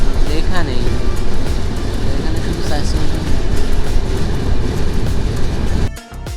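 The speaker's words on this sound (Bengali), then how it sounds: "আমাদের ট্রেনটা খুবই অল্প সময়ের মধ্যে নগরকান্দা রেলওয়ে স্টেশনে পৌঁছেছে" Steady clatter and roar of a train running on rails, arriving at Nagarkanda railway station, fills the space, heavy and close, with voices underneath; the noise cuts sharply near the end.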